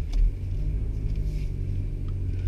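A 5-speed manual transmission car's engine hums and rumbles steadily as it pulls away in first gear, with a low revving drone close up and no speech.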